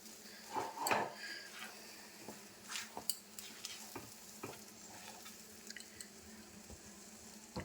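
A coconut and sugar mixture for coconut ladoo is stirred continuously in a pan. Quiet, repeated scraping strokes and soft clinks sit over a faint, low sizzle.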